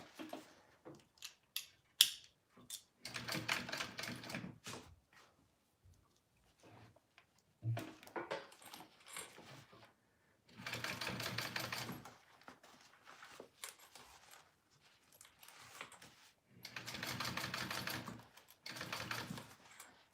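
A sewing machine top stitches fabric alongside a zipper, running in several close bursts of rapid, rattling needle strokes with short quiet pauses between them.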